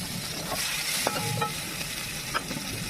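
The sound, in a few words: potatoes frying in a pan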